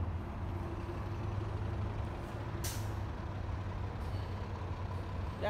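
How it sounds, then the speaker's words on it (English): City bus on the street, a continuous low engine drone with a brief sharp hiss of air brakes partway through, heard at moderate distance in quiet street ambience. "That bus is a 60 or a 39."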